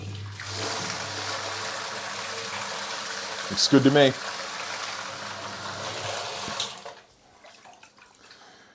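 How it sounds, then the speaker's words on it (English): An eShopps S200 protein skimmer pump runs with a steady watery rushing hum for about seven seconds, with a short louder burst midway, then cuts off, leaving a quiet room. Someone speaks briefly over it. "we'll crank on the power and see whether she pumps."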